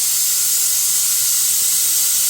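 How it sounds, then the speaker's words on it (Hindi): Biryani ingredients frying and browning in a pot give a steady, close, loud sizzle, an even hiss that holds without break and has no talk over it. "अब इनको हम थोड़ा सा भूनेंगे, ब्राउन करेंगे"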